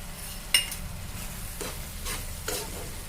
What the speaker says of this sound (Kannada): ಈಗ ಇದಕ್ಕೆ ಒಂದು ಚಮಚ ತುಪ್ಪ ಹಾಕ್ತೇನೆ